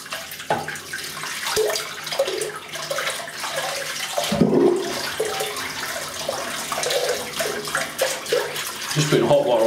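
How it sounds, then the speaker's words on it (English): Tap water runs steadily to rinse out a tub of Barrister and Mann shaving soap, a continuous splashing flow with shifting gurgles as the tub fills and empties, close up. "let me just rinse that soap. I'll clean it out."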